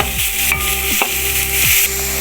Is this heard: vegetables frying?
yes